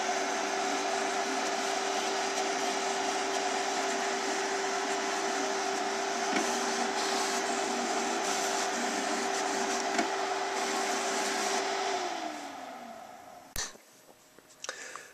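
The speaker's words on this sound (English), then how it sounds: "The cutter is ready to cut, and we shall cut." A Graphtec cutting plotter cuts printed vinyl with a steady, even whine and whir that runs for about twelve seconds, then winds down and stops with a few faint clicks.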